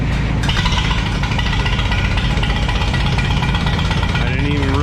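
A Minneapolis Moline tractor engine running steadily after a spring start-up, a loud continuous rough mechanical drone throughout, with voices talking over it.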